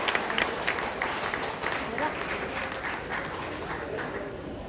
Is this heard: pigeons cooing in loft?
no